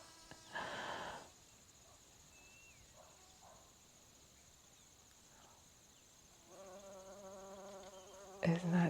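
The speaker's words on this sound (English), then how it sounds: "Oh, the bees are starting up" Bees buzzing around little orange flowers in an early-morning farm garden, two close passes of droning buzz, one short near the start and a longer, louder one toward the end, with quiet outdoor ambience between.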